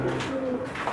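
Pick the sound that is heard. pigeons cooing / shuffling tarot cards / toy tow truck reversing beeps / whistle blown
pigeons cooing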